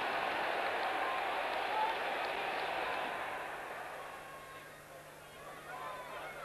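A large football stadium crowd at a 1988-89 Tottenham Hotspur versus Middlesbrough match, heard as a steady distant murmur and roar that slowly fades, with a commentator talking over it.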